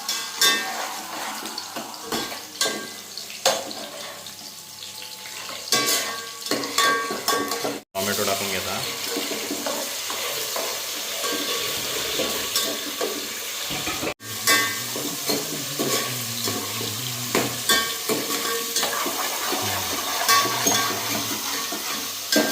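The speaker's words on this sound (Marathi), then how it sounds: "व्यवस्थित तो कांदो भाजा" Onions fry and sizzle steadily in a hot pan for a chicken curry, with a spoon or spatula scraping and stirring through them; the sizzle stays continuous and close while occasional metallic knocks of utensil against pan cut through it.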